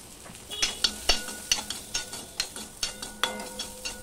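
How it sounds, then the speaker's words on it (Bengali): Green chilli and chopped ginger being stirred in a frying pan: about a dozen regular scraping strokes, close and moderately loud, over a soft sizzle. "দিয়ে আমি একটুখানি নেড়ে চেড়ে নেব।"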